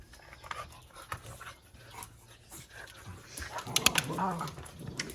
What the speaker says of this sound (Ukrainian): Собаки бігають щасливі.